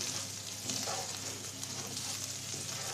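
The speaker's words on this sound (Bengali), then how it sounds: "চালটা কিন্তু সুন্দর ভাজা হচ্ছে" Close, continuous sizzle of rice grains frying in oil for a vegetarian biryani, with occasional stirring scrapes in the pan and no voices.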